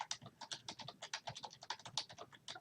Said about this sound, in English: I will type that.